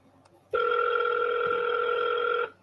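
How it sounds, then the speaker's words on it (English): A ringback tone on an outgoing telephone call: one steady, loud, two-toned electronic ring about two seconds long that starts and stops abruptly over quiet room noise. "I'm gonna make a phone call right now."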